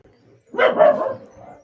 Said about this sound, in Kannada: ಓ ನಾಯಿ ಉಂಟು ಮಾರೆ